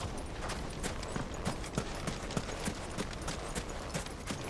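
Horse hooves clip-clopping in the video game Final Fantasy XVI, a steady, fairly quiet rhythmic trot of sharp hoof strikes repeating evenly throughout.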